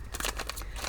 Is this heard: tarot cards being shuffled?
yes